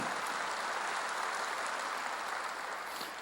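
A congregation applauds during a Korean church sermon, a soft, continuous wash of many hands clapping at once, steady and somewhat distant with no speech over it.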